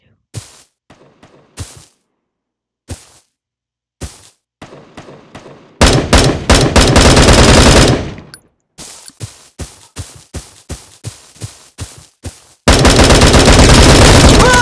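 Gunfire in the Bullet Force video game: scattered single shots and short bursts, then a long sustained automatic burst, more spaced shots, and a final heavy continuous burst, all loud and close.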